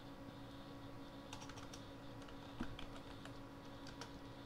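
A computer keyboard is typed quietly at close range, a short run of light clicking keystrokes over a steady background hum, with no talking.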